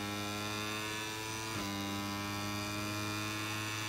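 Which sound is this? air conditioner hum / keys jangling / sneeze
air conditioner hum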